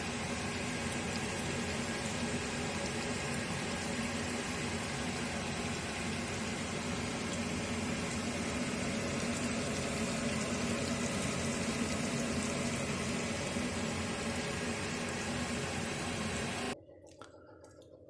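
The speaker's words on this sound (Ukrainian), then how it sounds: "тушкуємо хвилин 30." Steady bubbling and gentle simmering of meat stewing in a covered pot over low heat, continuous and close, ending abruptly near the end.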